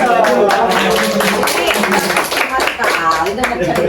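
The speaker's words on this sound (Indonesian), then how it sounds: "Tepuk tangan dulu." A burst of hand clapping rises from a group while people talk and cheer over it, loud and close throughout.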